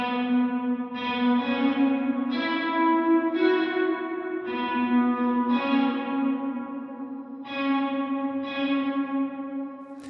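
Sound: guitar strings with reverb at 200 ms pre-delay

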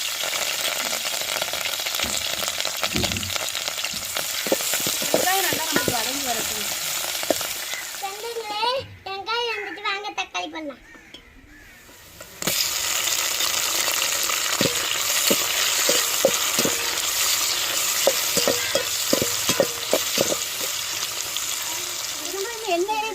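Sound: onions and curry leaves frying in oil

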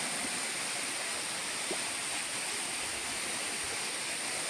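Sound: waterfall flowing at Ulakkai falls, Kanyakumari

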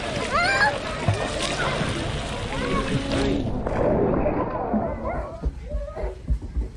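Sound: child splashing in pool water

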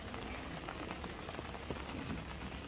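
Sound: rain falling on pond water at night

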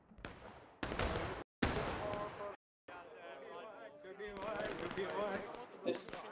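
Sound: musket volley fire in War of Rights video game

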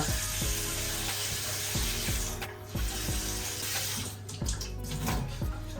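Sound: pouring water into pot

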